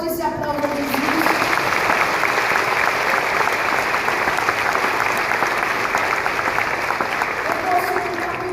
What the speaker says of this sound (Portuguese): Pode dar forte esse aplauso a Jesus.